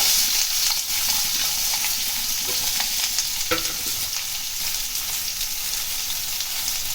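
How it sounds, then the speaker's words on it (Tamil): Onions frying in hot oil for potato gotsu, a bright, continuous sizzle with occasional scrapes of stirring, close and steady, without speech. "இந்த டைமில் வெங்காயத்தை ஆட் பண்ணிக்கலாம்."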